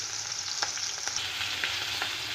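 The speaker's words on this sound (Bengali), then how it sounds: "মাছটাকেও লাল করে ভেজে নেব।" Rohu fish fries in hot oil, a steady close crackling sizzle with a few sharper spattering pops throughout, no voices.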